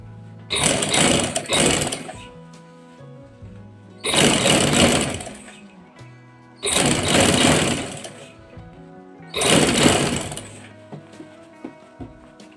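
A sewing machine slowly stitches a boy's round-hem kameez in four distinct whirring bursts of one to two seconds each, close and loud, separated by quiet pauses, with no talking.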